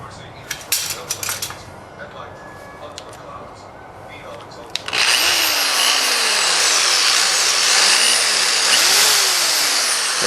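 A handheld drill bores out rivets on a metal computer case, the hard drive cage of an HP Omen 880 gaming desktop, starting after scattered clinks of handling, with a loud, continuous whine whose pitch rises and falls as it bites.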